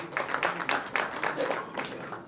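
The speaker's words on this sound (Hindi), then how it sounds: "जोरदार तालियां हो जाए दोस्तों" An audience at an awards ceremony applauds, a dense run of clapping that holds steady with rhythmic swells across the whole stretch, moderately loud and without speech over it.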